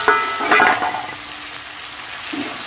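Green chillies hit a hot pan of bhola fish curry with a loud burst of sizzling and a brief stir, then the frying settles to a steady, softer hiss.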